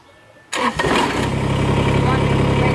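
A tractor engine cranks and catches at once, settling into a steady, loud rumbling idle after a brief burst.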